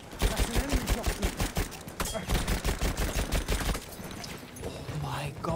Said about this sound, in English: That's an enemy shotgun!